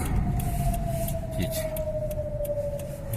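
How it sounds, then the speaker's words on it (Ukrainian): An air raid siren sounding over Kharkiv's Saltivka district, a steady wailing tone that drifts slowly downward, heard from a car with road and engine noise underneath. "Лунає знову повітряна тривога."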